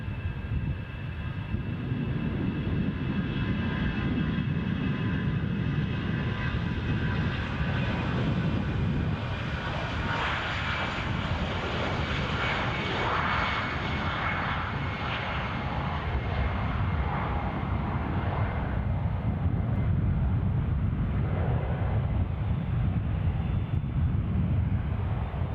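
Airliner departing Edinburgh Airport bound for Luton, a broad continuous jet roar with rumbling low end and wind buffeting, swelling slightly toward the end, heard from outdoors at a distance without speech.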